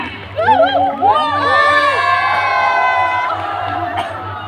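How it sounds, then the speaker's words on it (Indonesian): A school audience at an OSIS student council election debate cheers and shouts, a crowd of children's voices whooping loudly in overlapping rising calls over a steady low hum. "Tepuk tangan semuanya."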